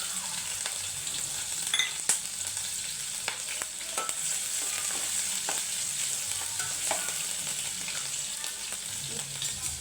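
Curry leaves and finely chopped green chillies frying in hot oil for a chicken curry, a continuous bright sizzle with scattered pops and crackles, fairly close and without voices.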